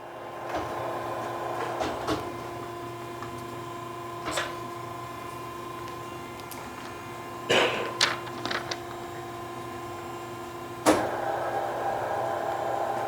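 Cincinnati-Milacron R-77 universal cylindrical grinder running a plunge cycle, a steady machine hum with a constant tone, broken by scattered clicks and clunks of the mechanism at irregular intervals.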